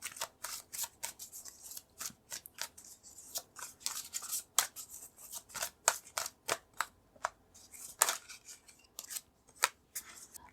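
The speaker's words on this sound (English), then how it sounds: "I'm gonna pull some more cards." Tarot cards are slid and pulled one after another from a deck at close range, giving a quick, irregular run of crisp papery snaps and brushes with no talking.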